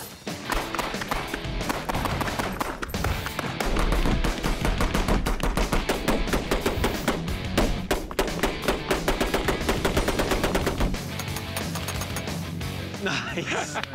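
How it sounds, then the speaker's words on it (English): Rare antique Gatling gun firing a long rapid burst of rounds, dense crackling volleys that are loud and close, with voices talking over the din. "I fired off 50 rounds in like 3 seconds"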